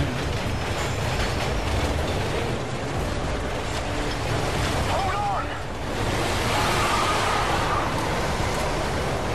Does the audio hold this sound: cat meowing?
no